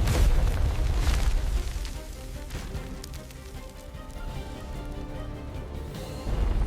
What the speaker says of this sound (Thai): ไฟและสายฟ้าปะทะกันกลางอากาศ เสียงระเบิดดังก้อง